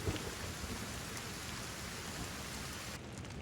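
Steady rain falling in the video game Kenshi, a dense continuous hiss of drops with a low rumbling undertone, loud and even throughout with no voices.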